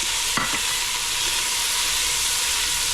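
Carrots are tipped into a hot pan to sauté for a blackened salmon and risotto dish. A steady, loud sizzling hiss runs throughout, with a brief clatter near the start as they land.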